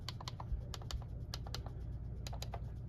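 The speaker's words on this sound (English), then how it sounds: "you should have a nice" Sharp plastic clicks and taps from the front panel assembly of an Icom 7700 radio being worked on, about a dozen crisp, close, irregular clicks over a steady low hum, with no talking.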